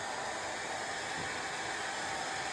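A hair dryer runs steadily in a room where a dog is being helped past its fear of the dryer, giving a constant, even, airy whoosh that holds without change throughout, with no voices.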